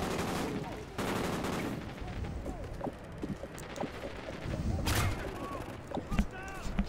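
Sniper rifle shots in Call of Duty Ghosts, several sharp cracks spread through the stretch, one standing out near the end, over busy in-game clatter and background noise with a voice talking at times.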